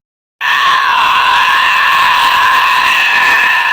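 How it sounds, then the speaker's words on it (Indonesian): A loud, sustained, harsh scream that bursts in abruptly and holds steady at full intensity without pause, shrill and piercing throughout. "disusul oleh jeritan mengerikan yang seolah mampu merobek jiwa"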